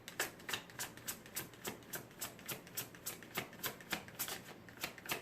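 Tarot cards are shuffled close up in a steady rhythm of soft riffling bursts, about two per second, without any voices.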